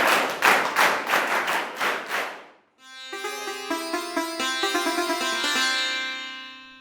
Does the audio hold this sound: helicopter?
no